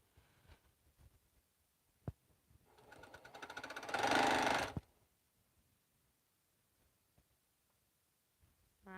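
A sewing machine stitches fabric for quilting in one steady burst of about two seconds that builds up and then stops, with quiet stretches around it.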